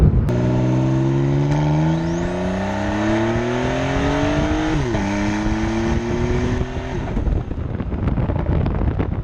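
A Porsche 911 Carrera T's turbocharged flat-six engine revs hard through the gears, its rising drone with induction noise dropping briefly at a shift before climbing again, loud and close with wind rushing past.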